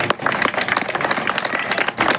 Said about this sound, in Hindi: मैं चाहती हूँ कि आप सब लोग एक बार अपने लिए जोरदार तालियां बजाएं।